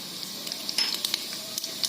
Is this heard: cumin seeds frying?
yes